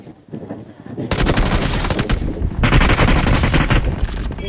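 Rapid bursts of automatic gunfire in a mobile shooter video game, loud and dense, firing in two long volleys with only a short gap between them.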